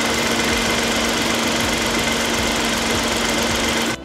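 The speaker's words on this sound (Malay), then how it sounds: "Ini X70 punya engine punya bunyi." A Proton X70 car engine idles steadily and loud up close right after being started, a constant rough hum with a faint knocking texture that cuts off abruptly at the end.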